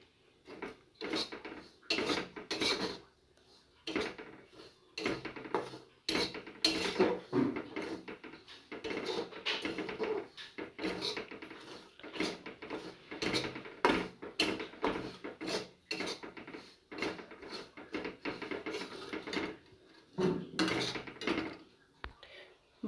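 Semolina is dry-roasted over low heat in a pan, with frequent clinks and scrapes of a utensil against the metal in quick irregular bursts, close and fairly quiet.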